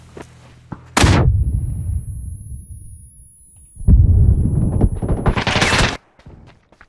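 Two heavy grenade blasts in a PUBG match, each a sudden loud boom followed by a rumbling decay, the second longer and rougher, close and with no voices.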